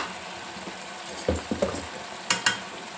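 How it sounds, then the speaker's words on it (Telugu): A spoon stirs capsicum masala curry in a pan on the stove, scraping in a few distinct strokes over a soft, steady sizzle, close and moderately loud with no talk. "ఒక 2 నిమిషాలు దాంట్లో మంచిగా కలుపుతూ ఉడికించుకున్నాను ఈ మసాలా అంతా"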